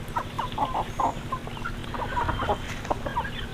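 A Pama Cocoa Junior chicken clucks in its rear coop, giving short, close, repeated clucks in irregular bursts over a low background hum.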